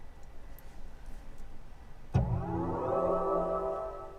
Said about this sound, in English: That's what you can hear when you turn the car on.